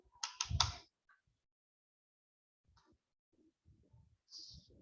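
A quick burst of keystrokes on a computer keyboard while code is typed, then near silence broken by a few faint, scattered taps.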